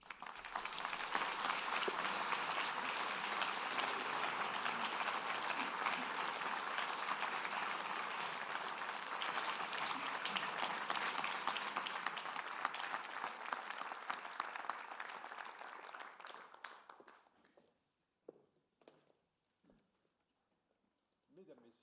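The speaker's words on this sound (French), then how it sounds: "Je vous demanderai de bien vouloir applaudir nos musiciens." An audience at an inaugural evening event in France applauds musicians, with sustained, dense clapping for around fifteen seconds that thins out and fades to a few scattered final claps.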